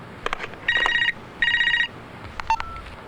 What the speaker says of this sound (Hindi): hello hello, doctor Kiran Jaju therapy centre